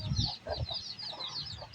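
Turkey hen clucking in a small farm shed, a run of soft, close clucks and calls that keep up through the whole clip, loudest near the start.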